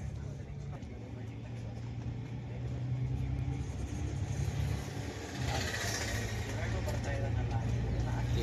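Inside a KSRTC Airavat Club Class Volvo 9600 bus on the Mysore to Bangalore route: a continuous low engine and road rumble that grows slightly louder as the bus drives, with muffled voices underneath.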